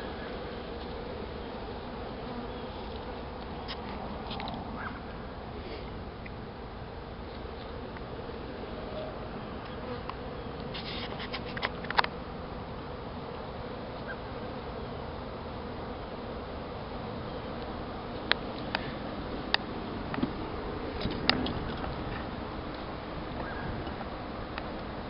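A honey bee swarm hums steadily near honeysuckle in bloom outdoors, a constant mid-level drone with a few brief louder ticks and bumps along the way.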